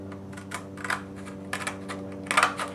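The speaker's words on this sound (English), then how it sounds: "you could use this pair of scissors right here" Scissors snip through a Formica laminate sheet in several crisp, close cuts, irregular clicking crunches over a faint steady hum.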